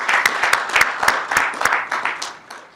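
Audience at a city council meeting applauding twenty-year service members, a short burst of distinct, fairly close hand claps from a small group, tapering off toward the end.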